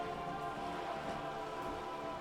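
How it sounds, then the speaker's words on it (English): Steady rainfall in the video game Disco Elysium, falling on wooden boards and surrounding water, a soft, even patter that stays constant throughout with no voices. "All around you, rain keeps falling down."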